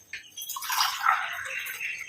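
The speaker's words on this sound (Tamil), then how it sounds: "1 டம்ளர் அளவுக்கு தண்ணி சேர்த்துக்கலாம்." Water poured from a tumbler onto coffee powder in an iron kadai, a steady splashing pour lasting about two seconds, close and moderately loud with no talking.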